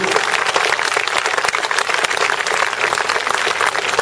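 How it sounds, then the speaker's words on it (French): Steady, dense applause from an audience at a presentation of the France agility team, filling the room continuously for the whole stretch with no voices over it. "si vous pouvez l'applaudir"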